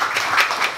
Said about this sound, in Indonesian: tepuk tangan dulu untuk Bapak ini